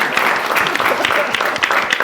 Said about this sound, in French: applaudissez pour mon cousin